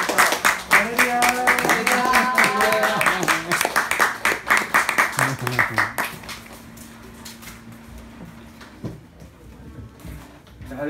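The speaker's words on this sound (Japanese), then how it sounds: "ジョセフ先生を拍手を持って、期待を持ってお願いしましょう" Congregation applause during a Sunday church worship service, a loud, rhythmic patter of clapping with sung or musical tones over it for several seconds, then fading into quieter room sound.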